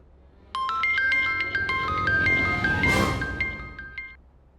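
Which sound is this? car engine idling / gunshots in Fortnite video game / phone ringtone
phone ringtone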